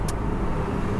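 Busy road traffic rumbles steadily beside a roadside car charging station, a dense continuous wash of passing vehicles with a brief hiss near the start and no talk.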